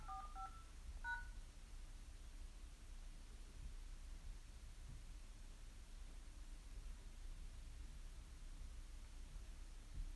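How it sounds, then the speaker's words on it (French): Telephone keypad tones keyed in to enter a password: a quick cluster of about four short beeps right at the start, faint over a low hiss of line noise that continues afterward. "Veuillez composer votre mot de passe suivi du carré."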